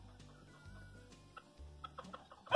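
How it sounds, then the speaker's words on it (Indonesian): A small Sussex hen clucks in short, soft bursts on a farm in America, with quiet low murmuring clucks building to a louder squawk at the end. "Ini ayam kecil ini dia Sussex ya."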